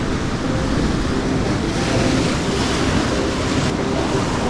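A big set of ocean waves breaking along a rocky coastline, a loud continuous roar of surf with wind buffeting the microphone throughout.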